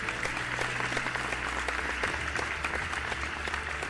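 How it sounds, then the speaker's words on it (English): Audience at a televised riddle bee grand final applauds the finalists, a dense, sustained round of clapping with no talking over it. "So please give yourselves a huge round of applause."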